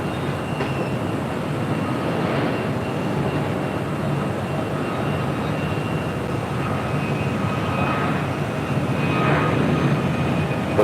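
A heavy Boeing 787 jet lands on runway 24 left at LAX, a broad, continuous roaring rush of engine and airflow, loud and steady throughout, swelling slightly near the end, with no voices.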